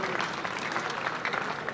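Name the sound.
audience applause for a graduate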